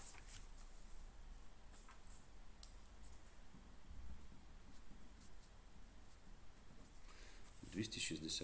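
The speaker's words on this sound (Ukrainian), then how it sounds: "Значить, Пишемо умову." A pen scratches steadily across paper while a geometry problem is written out by hand, faint continuous strokes with a few light taps, quiet and close, sounding alone without any talking.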